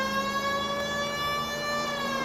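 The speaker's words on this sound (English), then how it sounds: "This would be a good time for the siren." A police car siren in the video game L.A. Noire wails steadily and loudly for the whole stretch, its rising and falling tone running alone with no talk over it.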